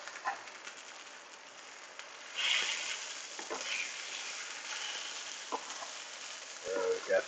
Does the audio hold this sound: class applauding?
no